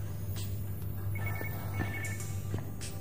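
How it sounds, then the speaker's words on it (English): In the video game Vertigo Remastered, a telephone rings in short electronic trills repeated several times at moderate volume, set against a low steady hum. "There's a phone somewhere."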